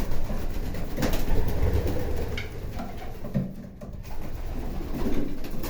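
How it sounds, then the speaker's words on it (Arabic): Homing pigeons in a loft coo softly and intermittently over a steady low background murmur, with no talk. "الحمام اللي احنا بنعتز بيه"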